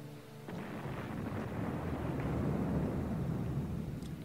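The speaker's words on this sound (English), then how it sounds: "Alright, the explosion. Best part." An explosion in the video game Evil Genius, a sudden blast that opens into a sustained, deep rumbling roar lasting several seconds, loud and without speech.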